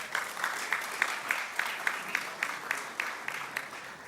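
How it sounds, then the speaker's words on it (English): An awards gala audience breaks into applause, a moderately distant wash of clapping with a few louder individual claps standing out in a regular rhythm. "You can go ahead, clap for that."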